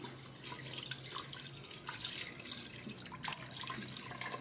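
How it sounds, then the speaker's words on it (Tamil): Water is poured into a pot, likely a pressure cooker, while cooking intestine curry: a continuous, fairly quiet splashing stream with a few small surges. No one speaks. "போட்டு தண்ணியை ஊற்றி வேக வச்சுருவோம்."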